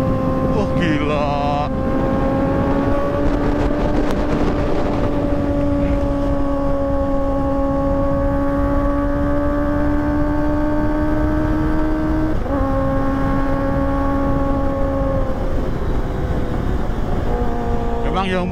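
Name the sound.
Kawasaki ZX-25R motorcycle with Proliner TR2 full system exhaust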